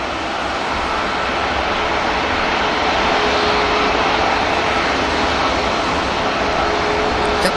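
A Eurowings Airbus A320 bound for Stuttgart idles or taxis at Manchester Airport, a loud, steady broadband jet roar with a faint whine, constant throughout with no speech.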